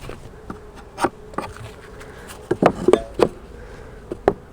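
Honey bees buzz around a weak beehive with a reduced entrance, brief close passes flying by the microphone with sharp rising and falling whines over a quieter steady hum, no talking.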